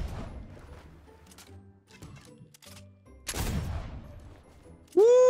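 Gunfire in the Fortnite video game, heard as scattered sharp game shots and clatter with a louder burst near the middle and a bright tonal game effect at the end.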